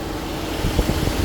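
A 2004 Volkswagen Golf 1.4 petrol engine idles with a steady low rumble at close range, even and unbroken, with faint irregular thumps toward the end.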